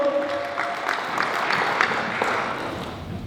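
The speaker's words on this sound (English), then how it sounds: "Let's clap for Core" Crowd applause at a South Sudanese community election count in Maine, a steady soft patter of many hands clapping, moderately distant, with some voices mixed in.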